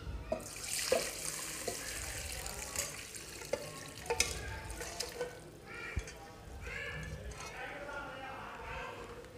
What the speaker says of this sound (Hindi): अब हम सूप को और बोटियों को अलहदा कर लेंगे। हम सूप को छान लेंगे